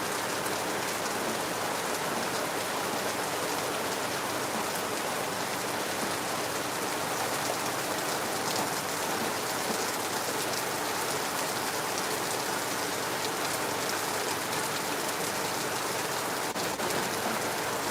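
Heavy rain pouring steadily in Lagos after three hours of downpour, a dense, constant hiss of drops on surfaces filling the whole stretch at even loudness with no voices.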